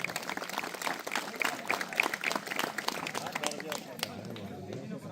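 Spectators clapping for kabaddi players at a match in Dapoli, Chiplun, a dense crowd applause that runs throughout, with voices mixed into the clapping.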